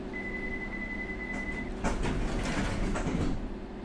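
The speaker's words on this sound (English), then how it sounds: "I shall be closing the doors though." Train doors close on a London Underground train at Tower Hill in a simulator game, with a steady beep giving way to a sliding, thudding door closure over the hum of the stationary train.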